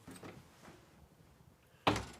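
A house door opens with a soft scrape and a sharp, loud clunk near the end of a quiet room tone, preceded by a few faint rustles and footsteps.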